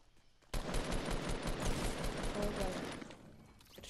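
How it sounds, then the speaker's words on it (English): Shotgun blasts in Fortnite Battle Royale, a sudden loud burst of gunfire that sustains as a dense rattling volley for about three seconds, with a voice speaking faintly underneath. "That was the weakest shotgun I've ever seen."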